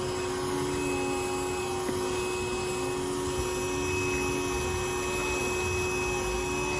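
A vacuum drones steadily and loudly as it is used to suck up a swarm of bees from an upturned flowerpot in a garden, a constant whine and hum throughout with no pauses.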